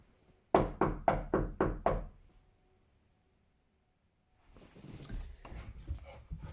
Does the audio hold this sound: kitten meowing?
no